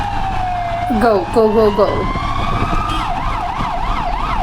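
An ambulance siren on a European street wails loudly and close by, with a rising and falling two-tone pattern shifting into a rapid warble. A voice briefly urges someone on over it.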